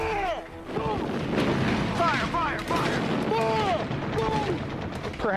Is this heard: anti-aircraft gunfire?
yes